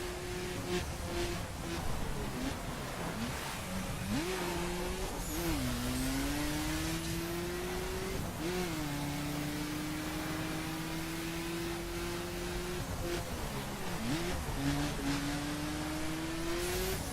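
An Abarth 500 races in The Crew, its engine droning steadily close up and rising in pitch through the gears, with brief dips at shifts and a renewed climb near the end, alone without voices.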